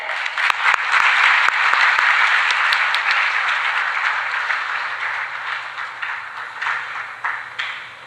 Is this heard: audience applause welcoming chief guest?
yes